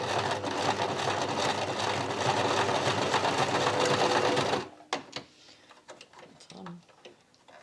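A sewing machine runs steadily, stitching along a fabric edge with a fast, even mechanical ticking for about four and a half seconds, then stops, leaving faint handling noises.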